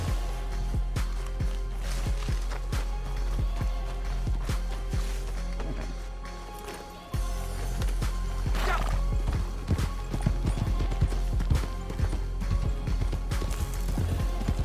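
Horse galloping in the Red Dead Online video game, a steady run of hoofbeats with a dense, busy game soundscape behind it throughout.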